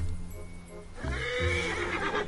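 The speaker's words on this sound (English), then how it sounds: "Shut up, horse!" A horse in Assassin's Creed Origins gives a loud, close whinny that breaks into a rougher second burst, with hoof clatter underneath and no talk.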